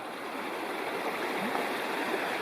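The Bald River rushes over rocks in a wilderness backcountry setting, a steady close and even roar of flowing water with no voices.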